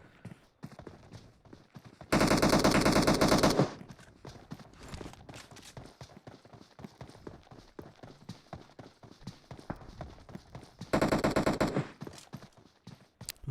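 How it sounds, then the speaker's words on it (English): Two loud bursts of rapid automatic gunfire from a PUBG Mobile match, each about a second and a half long, stand out over quieter scattered game sounds and faint footstep-like ticking. "More shots coming in"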